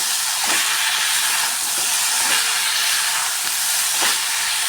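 Shredded cabbage hits a hot pan of spiced chana dal and sizzles, a loud steady hiss with a few soft stirring bumps throughout.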